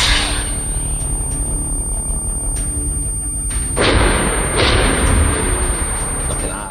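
An anti-tank weapon fires in Arma 3: a sharp blast near four seconds is followed by a roaring burst and rumble, with smaller cracks of gunfire and quiet voices in the background.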